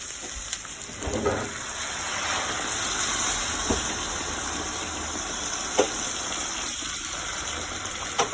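Sauce pours into a hot stone molcajete with a steady gushing, bubbling hiss that runs throughout, broken by a few faint knocks and clinks.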